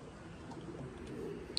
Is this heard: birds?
yes